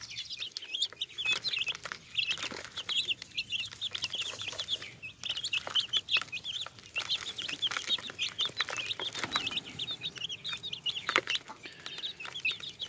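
Barred Rock chicks cluck and peep steadily and fairly close while being fed mealworms, a dense, continuous chatter of small high calls from several birds throughout.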